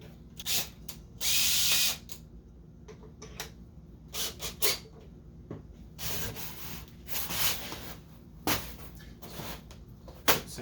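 A homemade drill bit bores wing tube socket holes into a wing core for a scratch-built RC plane, in short bursts of whirring and rubbing with pauses between them, close up and with no speech.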